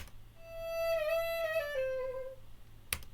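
A single unprocessed saxophone sample plays a sustained, slightly bending tone that glides downward and fades, fairly quiet over a low hum of background noise, with a short click near the end.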